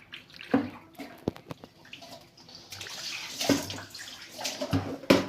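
Dishwashing at a home sink under a running tap: splashing water and clattering dishes in irregular bursts, close and moderately loud, with no talk.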